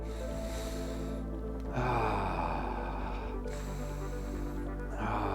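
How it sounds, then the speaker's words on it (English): Deep, slow breaths are drawn in and released during an amethyst crystal meditation, a long inhale and exhale heard close and soft over a steady background hum, without any talking. "I'm gonna breathe into it."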